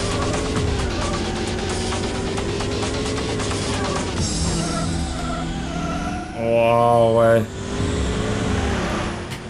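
A car engine in Need for Speed 2 SE drones steadily with shifting pitch as the car speeds along, and someone talks over it, with a brief louder swell near the end.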